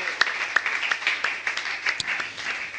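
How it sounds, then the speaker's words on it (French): A church congregation claps in brief scattered applause, with a handful of distinct hand claps over a murmur of voices in a modest room. "Je demande même qu'on acclame la parole de Dieu, s'il vous plaît."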